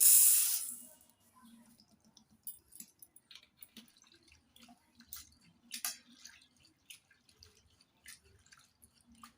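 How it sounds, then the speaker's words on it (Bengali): Pigeon pea lentils being washed in water in a bowl, with soft scattered drips, splashes and squishing sounds close by after a brief louder rush at the start. "প্রথমে অড়হরের ডাল জল দিয়ে ভালো করে ধুয়ে নেব।"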